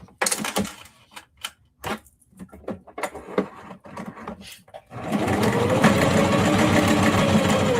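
A sewing machine stitches necktie strips onto a denim tote bag, first in short stop-start bursts, then in a loud, steady, continuous run close by.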